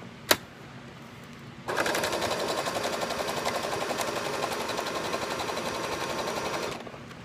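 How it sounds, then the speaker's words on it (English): Sewing machine stitching down a folded fabric edge for a mask cord tab, starting with a click and then running in one steady, rapid, close mechanical whir for about five seconds before stopping. "I'm going to sew that down."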